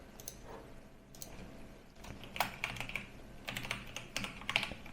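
Keystrokes on a computer keyboard tapped in short irregular bursts while a root password is entered during a Proxmox Virtual Environment install on an HP ProDesk 600 G4 SFF, close and fairly quiet with no talking.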